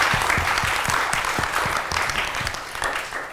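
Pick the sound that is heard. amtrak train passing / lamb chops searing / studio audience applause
studio audience applause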